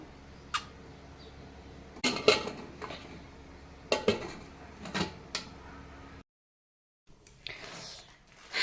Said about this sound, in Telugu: కాబట్టి మనం వీటిని మూత అనేది పెట్టేసుకుందాం